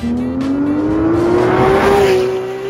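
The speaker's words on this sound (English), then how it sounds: "Even the downshift, listen to the downshifts, like no paddles, this is the automatic downshift." A Porsche GT3 RS engine roars loudly and close, its pitch climbing steadily before dipping as the automatic transmission shifts down.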